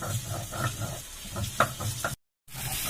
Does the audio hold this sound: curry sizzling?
yes